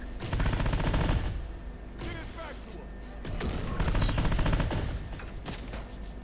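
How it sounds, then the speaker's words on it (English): Enemy machine-gun fire in Terminator: Dark Fate - Defiance, rapid automatic bursts rattling in close succession, stopping briefly and resuming, with faint game radio chatter mixed underneath. "Those guys are shooting"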